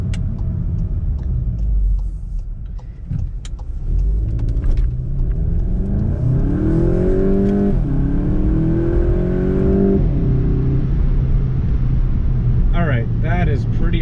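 2018 VW Golf GTI engine accelerating hard in first gear, a deep rumble climbing steadily in pitch for several seconds before easing off, heard from inside the car with a voice talking over the start.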